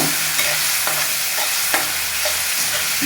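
Tomato rice masala sizzles and fries steadily in a pan, with stirring scrapes and clinks of a spoon breaking through the continuous close hiss; no one speaks.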